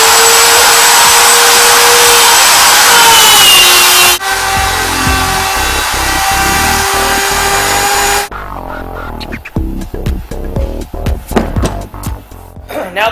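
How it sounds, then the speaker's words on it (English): A router fitted with a spiral upcut bit cutting wood for a subwoofer box, a loud sustained whine that shifts pitch as it bites, then drops into rougher, choppier cutting bursts toward the end. "So, fire up the router."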